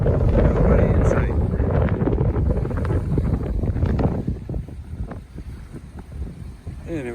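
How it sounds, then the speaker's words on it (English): Strong wind buffets a microphone on a sailboat in loud, gusty rumbling blasts that ease off toward the end, with a voice talking faintly underneath. "lot of wind here"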